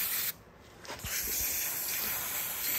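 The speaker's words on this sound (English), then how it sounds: "So all we're gonna do, we're just gonna spray air down." Compressed air sprays in a steady close hiss into the mass air flow sensor of a Toyota 4.7L engine, broken by a short pause and a few brief bursts before the continuous blast resumes.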